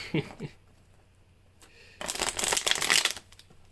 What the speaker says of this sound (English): Gotta end it off with a nice, good old shuffle.